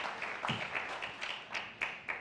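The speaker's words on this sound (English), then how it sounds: "I like all this clapping in here." Slow, scattered clapping from an audience in a talk hall, only a few distinct hand claps spaced roughly every quarter second, fairly faint over a hiss of room tone.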